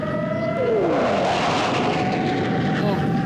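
An F-35 fighter jet roars overhead, loud and steady, its engine tone sliding downward as it passes.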